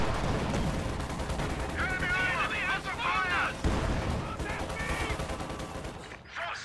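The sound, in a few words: Su-85 tank gun firing in a video game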